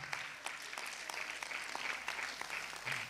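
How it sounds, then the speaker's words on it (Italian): Applause from the audience at an international school festival award ceremony, a fairly faint but continuous patter of many hands clapping with no talk over it. "Facciamo un grande applauso"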